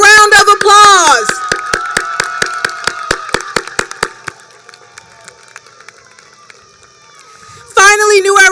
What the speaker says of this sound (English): Graduates, please turn towards your families and give them a big round of applause